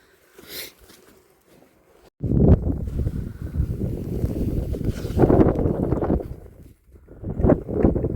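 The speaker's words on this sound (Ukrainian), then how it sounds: "Ах, вітер який." Strong, gusty winter wind roars against the microphone in a sustained rush at a vineyard, easing briefly near the end before surging again; a faint bump comes just before it starts.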